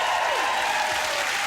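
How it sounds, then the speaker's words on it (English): Steady applause from a TV talk show studio audience fills the space, a dense even patter of clapping heard without speech. "Let's have a round of applause."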